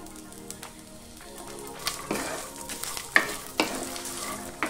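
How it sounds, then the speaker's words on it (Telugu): Peanuts, coconut pieces, dry red chilies, garlic cloves and ginger frying in a pan for a capsicum masala curry, a soft steady sizzle with scraping stirs and a few sharp clinks. "పల్లీలు కొద్దిగా వేగిన తర్వాత ఇందులోకి కొబ్బరి ముక్కలు వేసుకోవాలి, అలాగే ఎండుమిరపకాయలు, వెల్లుల్లి రెబ్బలు, అల్లము"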